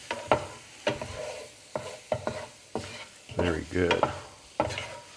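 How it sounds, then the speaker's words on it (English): Spinach and garlic being stirred in a hot pan, with repeated scraping stir strokes over a light sizzle, close and fairly loud, and a brief spoken remark. "give that a nice stir"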